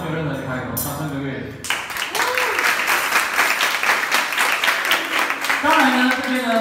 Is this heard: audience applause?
yes